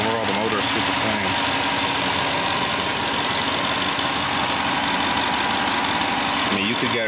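A Dodge Durango Hellcat's 6.4-liter 392 V8 Hemi idles close up with a steady, slightly knocking rumble and mechanical chatter, a voice talking over it.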